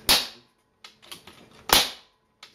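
A Hatsan Galatian .22 air rifle fires two sharp, close cracks about a second and a half apart, with softer clicks and mechanical handling noises between and after them.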